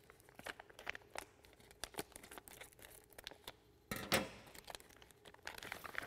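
Epson ink cartridge packaging being opened with scissors: close, faint crinkling and tearing of plastic wrap with scattered snips and crackles, and a sharper rip near the middle.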